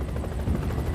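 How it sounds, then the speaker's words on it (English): A search-and-rescue helicopter's rotor chops steadily and loudly overhead in the Rocky Mountains, a constant pulsing thump with no voices. "The chopper has exceeded its flying hours and has to return to base."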